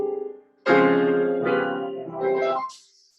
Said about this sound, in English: a chord sequence with it might sound like this.